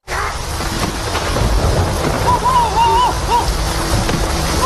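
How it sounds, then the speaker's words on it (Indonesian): A thunderstorm rolls through a film scene, with heavy rain hissing steadily and a low, rumbling roar of thunder throughout, plus a few faint higher calls over the wash. "tiba-tiba petir menyambar kepala Byung"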